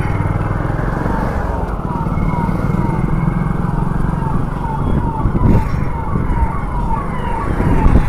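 An ambulance or police siren wails along with steady city traffic and engine noise in Ayodhya, India, holding at a fairly loud level throughout, with a voice talking over it.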